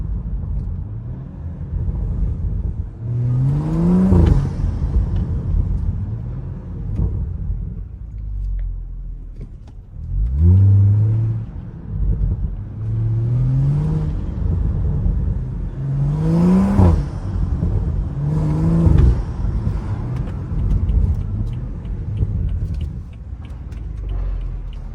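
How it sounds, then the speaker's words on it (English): BMW 335i with an N55 engine driven on backroads, engine rumbling and revving through shifts with crackling exhaust pops on lift-off, recorded from inside the car at moderate level. "I'm gonna stop talking because I'm talking over the pops."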